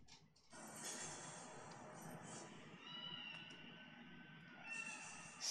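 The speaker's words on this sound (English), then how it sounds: "Starts off with a cat." A cat meows at the start of a music-backed teaser for a webtoon, the cries soft and close over a continuous score.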